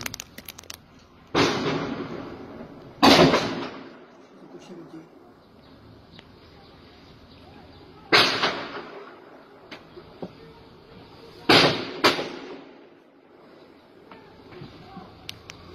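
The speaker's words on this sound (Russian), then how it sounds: "Стреляют, ложись." Gunshots ring out in daytime near residential buildings: a few loud, echoing cracks in separated bursts, some doubled, with quiet gaps and faint distant voices between them.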